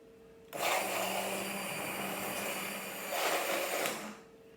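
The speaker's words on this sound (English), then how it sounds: "I'm just gonna hit it with the immersion blender real quick" A handheld immersion blender whirs steadily for a few seconds mixing gluten-free tortilla batter, its motor pitch shifting slightly as it churns, then cuts off.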